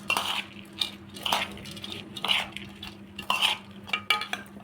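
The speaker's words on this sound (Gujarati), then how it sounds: "ચમચીથી ભેળવી નાખ" Spoon stirring a breakfast mixture in a pot, a series of close clinking scrapes against metal in an irregular rhythm of about eight strokes, fairly soft with a low hum behind.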